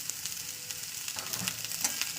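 Beans frying in a little oil in a pan, a continuous crackling sizzle with small sharp pops scattered across it, close up and steady, with no voices.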